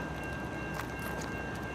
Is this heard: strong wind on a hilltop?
no